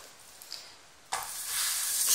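Flattened Rezzat el kadi dough drops onto a heated pan over medium heat. After a quiet start, a sudden sizzle breaks out and builds into a steady, close hiss that grows slightly louder toward the end.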